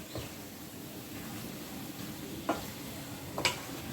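Bengali spice paste for banana-flower mocha fries in a pan on a gas stove at medium heat, a soft, steady sizzle with a few quick stirring scrapes and clicks.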